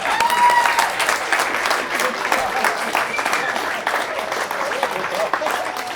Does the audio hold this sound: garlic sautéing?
no